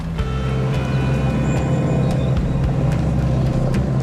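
A 4x4 car crawls over a large cross-axling hump off-road, its engine a steady low rumble with faint creaks and knocks from the suspension, heard from inside the cabin with no talking.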